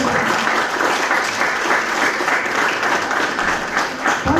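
Sustained, dense applause from an audience at an Estonian award ceremony for Father of the Year, steady and loud throughout with no pauses.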